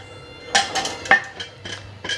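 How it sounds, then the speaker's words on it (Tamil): Cake tin dusted with flour tapped against a hard surface: about six short, bright metallic knocks in an uneven rhythm, close up and alone. "எல்லா பக்கம் படணும், எல்லா பக்கமும் தட்டி எடுத்துருங்க."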